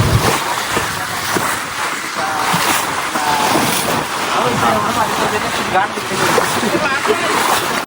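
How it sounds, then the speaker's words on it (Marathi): Arabian Sea waves heard from a moving boat near Devbag, Malvan, a steady loud wash of surf and water rushing past the hull with wind buffeting the microphone throughout. "इथून एवढ्या भागात फक्त लाटा असतात"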